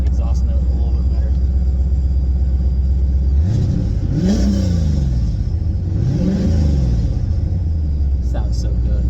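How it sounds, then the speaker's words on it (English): A car engine idles low, then revs up twice in rising and falling sweeps, the exhaust rumbling loud and close, settling back to idle between bursts. "let's see if I can get you guys the sound of that exhaust note a little bit better"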